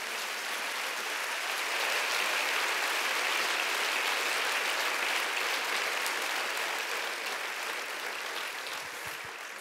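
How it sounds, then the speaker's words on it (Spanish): A church congregation claps in a long, even wash of applause that stays sustained and moderately distant for nearly ten seconds, with no voices standing out. "a denle un aplauso grande al Señor."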